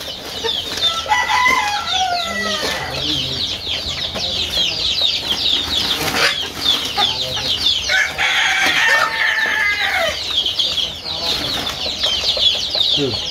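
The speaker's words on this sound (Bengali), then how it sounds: "ফার্মি মুরগির প্যাকিং চলতেছে" Adult Egyptian Fayoumi chickens being packed by hand cluck and squawk nearly nonstop, with bursts of wing flapping and a rooster-like crow, close and busy throughout.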